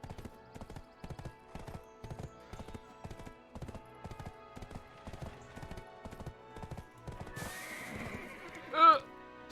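Steady rhythmic hoofbeats of a galloping horse in Black Desert Online, followed near the end by a loud, shrill neigh with a rustling burst just before it.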